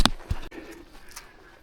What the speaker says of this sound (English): Just scared up another bird.